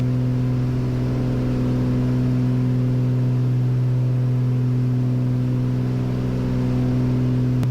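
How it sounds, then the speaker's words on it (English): Small single-engine airplane at wide open throttle during a climb, a loud, steady, unbroken engine drone with a strong low hum throughout, heard from inside the cabin. "We are wide open throttle."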